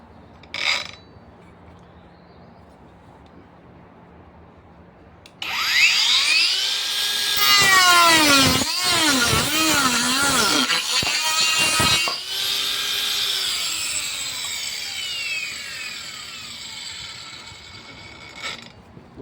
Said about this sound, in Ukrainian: Зараз спробуємо, як воно ріже цей диск.